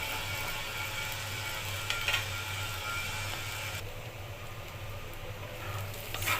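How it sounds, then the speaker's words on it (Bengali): Onions frying in mustard oil until lightly browned, a steady close sizzling hiss over a low hum, with a few faint scrapes and no voices. "পেঁয়াজটাকে ভালো করে হালকা ব্রাউন করে ভেজে নেব।"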